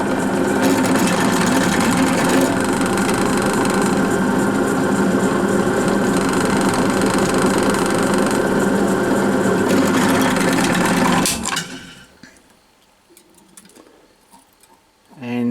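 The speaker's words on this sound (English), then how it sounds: "Drilling in a bit at a time." A hand drill bores a deep hole in a metal part for a model engine, giving a steady, loud mechanical whir for about eleven seconds before stopping abruptly, followed by faint clicks and handling sounds.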